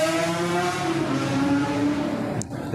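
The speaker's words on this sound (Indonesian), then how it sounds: "Kencang kali motor." A motorbike speeds past loudly and close by, its engine note holding steady for over two seconds before cutting off abruptly.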